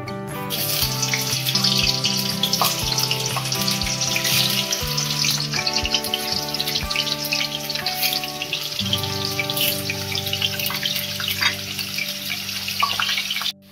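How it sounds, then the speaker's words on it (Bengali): Potatoes frying in refined oil in a kadai give a steady, loud sizzle and crackle throughout, with occasional stirring clinks and tonal hum underneath; no one speaks. "এতে আমি আলুগুলো ভেজে নেবো লাল করে।"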